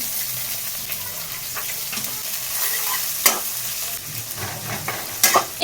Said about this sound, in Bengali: সর্ষের তেলটা একটু বেশি করেই দেবো কারণ অনেকটা পরিমাণ লাউ আছে আর লাউয়ের ওই জল শোকাতে শোকাতেই যা টাইমটা লাগে আর কি পেঁয়াজ কুচি দিয়ে দিচ্ছি